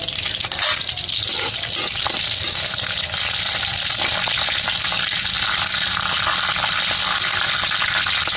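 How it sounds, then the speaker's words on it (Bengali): Dried chili, bay leaf and panch phoron spices frying in hot oil for a drumstick chachchari, a steady loud crackling sizzle running throughout without a break, close and continuous with no voices. "এই শুকনো লঙ্কা, তেজপাতা আর পাঁচফোড়ন ফোড়ন দেবো।"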